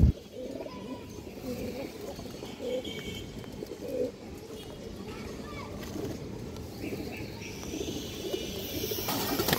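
Pigeons at a farm, a high-flying breed, give soft coos and scattered calls among steady outdoor noise and movement, with a person talking over them.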